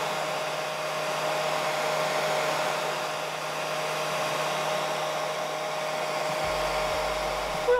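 A hair dryer runs steadily while drying a person's hair at a salon, a constant whirring hum with an even airflow rush and no talking.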